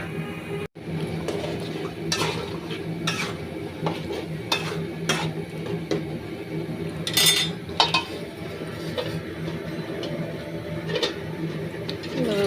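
Meat and spices for haleem being stirred in a cooking pot: a spoon scrapes and knocks against the metal in irregular strokes, with soft sizzling underneath and an occasional sharper clink, close by and steady, with no voices.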